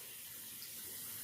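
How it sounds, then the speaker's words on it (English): A tap runs steadily into a sink while hands are washed with warm water, giving a continuous soft hiss at low level with no talking over it. "keep the water running. We will just turn it off when we're done."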